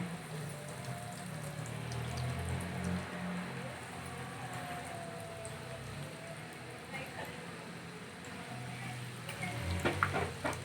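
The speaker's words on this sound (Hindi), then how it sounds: "ऑयल को गर्म होने देंगे। समोसों को फ्राई करेंगे।" Chicken bread cone samosas fry in hot oil with a steady, soft crackling sizzle and bubbling that continues throughout, growing slightly livelier near the end, with faint kitchen background.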